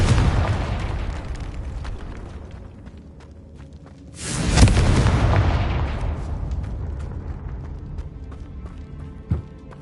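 A Confringo fire spell in the video game Hogwarts Legacy detonates with a sudden loud booming burst midway, then rolls off into a fading rumble over a low ambient game background.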